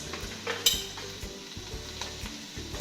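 Tomato paste being stirred into a frying Swahili biryani pot, with a steady low sizzle under repeated scraping strokes of a spoon against the pot and a few light metallic clinks.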